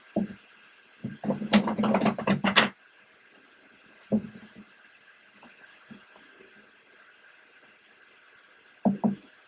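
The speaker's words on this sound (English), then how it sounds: "Yes, I'm shuffling again." Tarot cards being shuffled, with a brief burst of rapid riffling flutter in the middle and a few soft taps and card knocks before and after in a quiet room.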